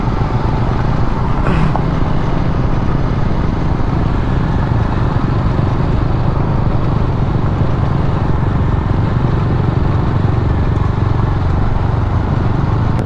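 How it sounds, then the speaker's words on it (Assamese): A Royal Enfield Himalayan motorcycle on the move along a rough road, its engine droning as a steady, loud roar mixed with wind rush for the whole stretch, with no voices. "হিমালয়ান চলাই আছে"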